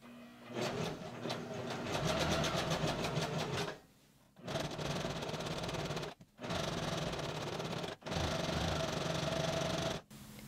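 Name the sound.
sewing machine zigzag stitching close to a mask's edge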